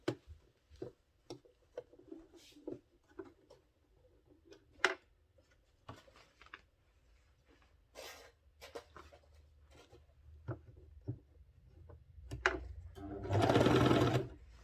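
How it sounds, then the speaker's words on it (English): A sewing machine stitches a sleeve placket on a men's senator wear garment. Light taps and fabric handling come first, then a short, steady whirring run of the machine near the end. "So let us now sew it. So I will take it to my machine."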